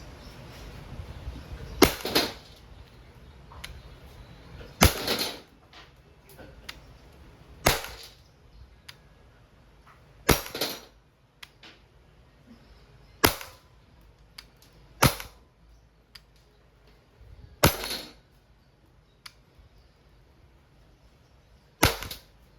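An Umarex Glock 17 Gen 3 CO2 airgun fires steel BBs in eight sharp, loud pops spaced a couple of seconds apart, each a crisp crack against a quiet room.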